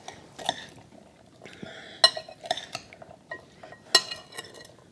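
A spoon stirs a black bean salad in a bowl, giving a string of clinks and scrapes against the dish in uneven bursts, close and moderately loud with quiet gaps between.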